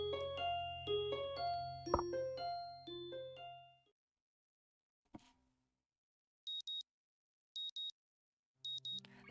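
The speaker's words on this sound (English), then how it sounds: "The sound of an alarm pulls me out of a fitful slumber and into the unpleasant state of wakefulness." Alarm clock from the Katawa Shoujo visual novel: after soft music fades and a single thud, three short bursts of high electronic beeping ring out clearly in near silence.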